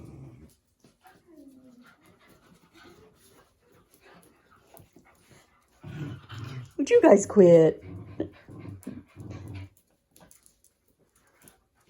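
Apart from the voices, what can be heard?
puppies and dogs playing and whimpering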